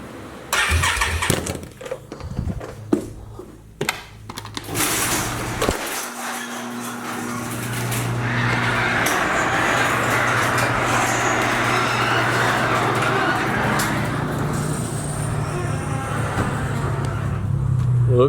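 A straight-piped 2019 Can-Am Renegade 1000 ATV with no exhaust muffling cranks over and fires up, then settles into a loud, raw, crackling idle with sustained revving, close and harsh throughout.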